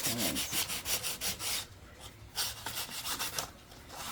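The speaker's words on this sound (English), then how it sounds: "I am going to run my sander over it, my sandpaper over it once" Sandpaper rubs over the back of a wooden craft piece in close, rhythmic scratchy strokes, with a short pause midway before the strokes resume.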